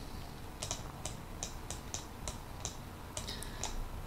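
A computer mouse clicking repeatedly, about a dozen crisp, close clicks at an uneven pace over a soft steady background hiss.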